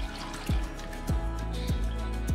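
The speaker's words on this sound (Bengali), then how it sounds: "এখন পরিমাণ মতো ঝোল দিয়ে দেব।" Broth is poured in splashes into a low-oil fish curry with winter vegetables. There are four evenly spaced liquid glugs with dripping between them, close and fairly soft.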